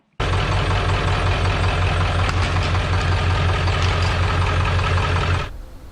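A Ford F350 with a 7.3L Powerstroke diesel and a new exhaust runs at a steady, loud idle with a deep rumbling throb that holds for about five seconds and then cuts off.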